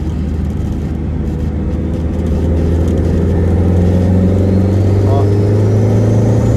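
A car engine fitted with a turbo flutter setup drones and builds steadily, its rumble rising slightly toward the end, with a brief fluttering sweep near the close. People talk over it.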